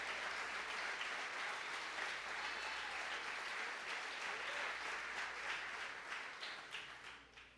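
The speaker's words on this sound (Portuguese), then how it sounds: "Pode aplaudir, porque é para Ele," Audience applause in a church service, a broad steady wash of many hands clapping that holds evenly and then tapers off toward the end, heard alone without speech.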